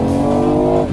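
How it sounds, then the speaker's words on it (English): Enhanced three-cylinder engine note of a BMW i8 hybrid sports car, a steady, loud, harmonically rich drone that holds for a moment and eases slightly at the end, with no voices. "that 3-cylinder has a great engine note sound"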